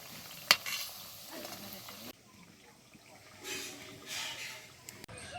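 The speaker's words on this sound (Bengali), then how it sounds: "একদম হালকা করে ভাজতে হবে" Soft sizzling and frying hiss of sweets made from flour and sugar frying gently in oil, with occasional clicks and stirring scrapes, quiet and close, swelling in gentle waves.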